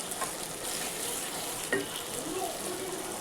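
Masala with half a spoon of cumin powder fries in oil, a dense even sizzle close by with a single brief scrape of a spoon partway through.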